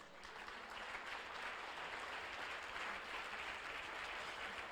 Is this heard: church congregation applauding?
yes